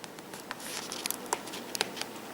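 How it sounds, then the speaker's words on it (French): Soft crackling and a few sharp ticks as adhesive tape is pulled away, quiet and close, with no talking. "on enlève le scotch."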